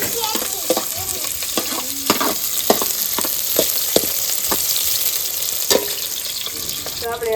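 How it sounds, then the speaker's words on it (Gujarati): Onions fry in hot oil for a masala veg pulao, giving a steady close sizzle. Sharp spoon-on-pan clicks from stirring break in at intervals. "તો આપણે હવે ડુંગળી નાખી દેવી"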